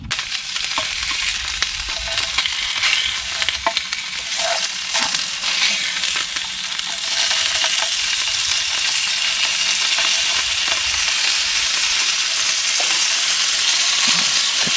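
Halved sausages frying in coconut oil in a pan at a woodland camp, a loud continuous sizzle and crackle close by, growing denser and steadier toward the end.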